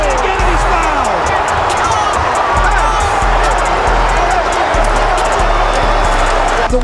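Loud, dense roar of the United Center crowd cheering at a basketball game, sustained throughout, with ball bounces and squeaks cutting through and voices under the din.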